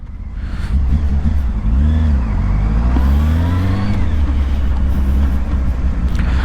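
A Honda Hornet 600 motorcycle engine revs and accelerates loudly and close by on an expressway in the rain, its pitch rising and falling through gear changes over a steady road rumble.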